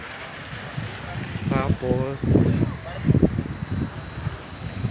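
Strong wind gusting at an outdoor spot in Baguio on a rainy evening, a steady rushing roar with buffeting against the microphone, while people talk over it close by.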